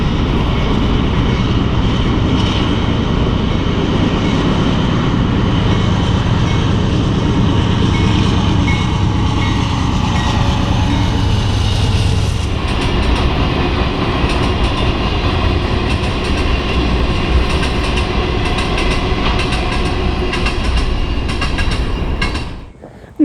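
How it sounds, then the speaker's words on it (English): Norfolk Southern B10, a local freight led by a single C6M locomotive, rumbles past close by with a steady roar and wheel clatter for about twelve seconds, then fades to a lighter rolling rattle before cutting off abruptly. "managed to catch Norfolk Southern B10, a local, powered by a single C6M"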